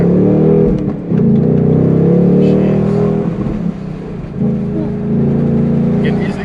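Engine of a 2019 Ford Mustang Bullitt accelerating, a loud, steady, throaty drone with a strong low rumble that dips briefly twice before surging back, heard from inside the car.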